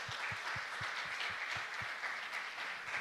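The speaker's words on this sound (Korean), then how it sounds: "다시 한번 뜨겁게 박수 한번 하겠습니다" Congregation at a Friday late-night church worship service applauding the youth group, a steady dense wash of clapping with a faint low rhythmic thump beneath, filling the whole stretch without speech.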